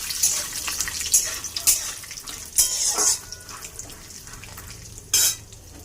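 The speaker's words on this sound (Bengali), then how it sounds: "ভালো করে ভেজে নেব বাদাম নারকেল" Peanuts and thinly sliced coconut frying in a pan for chire bhaja, a soft crackling sizzle broken by several bright, rattling bursts as the pieces are tossed and stirred, without voices.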